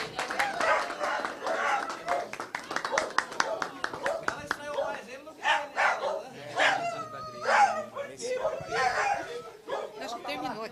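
A small dog lets out repeated quick barks and yips amid crowd chatter and scattered clapping, with nearby voices talking over much of it.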